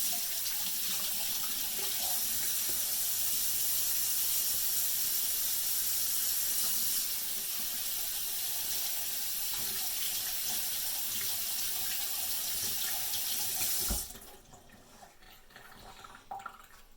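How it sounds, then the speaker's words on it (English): Hands are rinsed under a running kitchen faucet during steak preparation, a steady hissing stream of water for about fourteen seconds that shifts slightly midway, then stops abruptly, leaving quiet room sound with a few small knocks. "You know, wash your hands."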